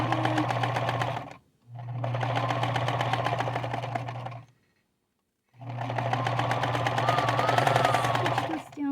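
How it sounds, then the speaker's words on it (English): A sewing machine stitches a necktie in two long, steady runs, then another after a brief pause, its rapid needle chatter loud and close throughout. "I'm going to turn it and sew it shut"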